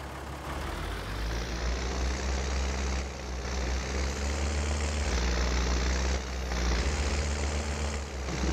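A tractor with a seeder in Farming Simulator 19 starting up: the engine catches and settles into a loud, steady, deep idle drone with a few shifts in pitch as it revs, close and alone.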